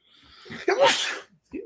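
A single sharp sneeze bursts out close by after a short in-drawn breath, followed by a brief quiet breath.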